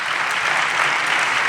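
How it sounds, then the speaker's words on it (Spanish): Audience clapping for a mayoress in a Spanish village setting, a dense, even burst of applause heard alone and fairly close. "Un aplauso para la alcaldesa"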